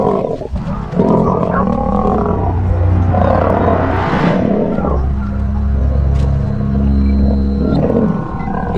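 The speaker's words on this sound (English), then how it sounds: "It was roars and the most terrifying sounds." Lions roar and snarl loudly and continuously while attacking another lion, deep rumbling growls layered with harsh throaty roars, close and intense throughout.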